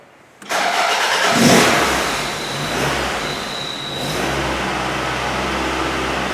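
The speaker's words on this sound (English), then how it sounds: "try to start this car up" A car engine cranks and catches, roaring up loudly before settling into a steady idle nearby.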